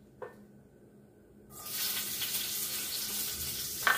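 Green bell peppers hit a pan of a little hot oil on medium heat, and after a short quiet moment a loud, steady sizzle takes over and holds for several seconds, close and crackling.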